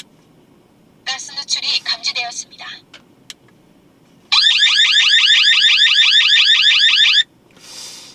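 Loud electronic alarm going off at a campsite during a kerosene heater test: a choppy burst of warbling beeps, then a few seconds of steady rapid pulsing, then a faint trailing tone.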